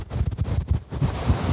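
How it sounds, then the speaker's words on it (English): Wind buffets a microphone outdoors while someone walks past a play park, giving loud, irregular low rumbling gusts with no one speaking. "it's a little bit windy here."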